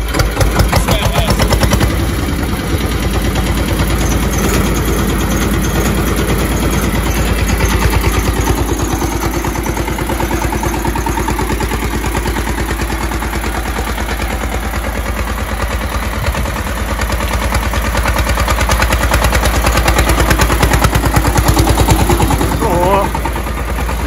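Bulat T-25 and Zubr Z-250 walk-behind tractors start and run outdoors. A loud, close, rattling engine chugs steadily for the whole stretch and rises briefly toward the end, while people talk over it.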